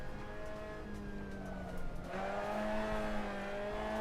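A Mazda MX-5 driven in the Assetto Corsa racing game gives a steady engine drone whose pitch dips and climbs through a gear change midway, with light tire noise underneath.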